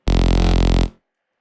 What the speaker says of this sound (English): the saw wave, right? It sounds like this.